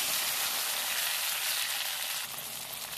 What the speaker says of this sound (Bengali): পেঁয়াজ লাল লাল করে ভাজা হয়ে যাওয়ার পরে দিয়ে দিলাম টমেটো।